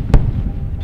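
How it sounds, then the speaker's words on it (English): A single sharp, loud sonic boom from Space Shuttle Discovery arriving to land, a sudden close crack followed by a brief low rumbling tail. "Discovery now going subsonic, the fleet-leading shuttle announcing its arrival at the landing site with a pair of sonic booms."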